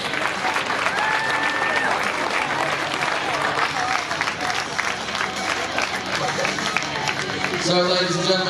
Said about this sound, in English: let's have a big round of applause for all the teams of Horseboarding UK.